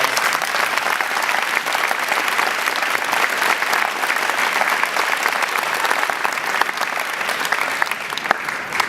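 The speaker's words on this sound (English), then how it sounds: "Can we give them a round of applause?" Audience at a Rhodes Scholar recognition event giving educators a round of applause, a loud, even, continuous crowd of hands clapping that holds steadily throughout.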